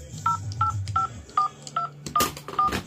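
A phone dials a number with a run of about eight evenly spaced keypad tones, each short and clear, over a low steady background hum.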